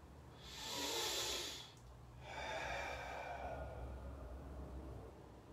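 A long breathy exhale during a qigong breathing exercise, close and soft, followed after a short pause by a second, longer airy breath that fades gradually.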